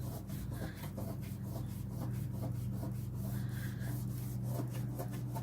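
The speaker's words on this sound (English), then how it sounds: "I'll get my little plastic scraper and scrape that off." A small plastic scraper rasps back and forth across a surface in a steady run of close, rough rubbing strokes, over a constant low background hum.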